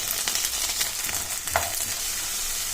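Beans, peas and carrot stir-fry in hot oil in a pan, giving a steady close sizzle throughout with a few soft scraping stirs and no talking.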